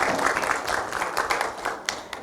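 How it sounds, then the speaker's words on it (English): An audience at an alumni masterclass event applauds, giving a dense, steady burst of many hands clapping that carries through the whole moment and fades slightly at the end. "A round of applause,"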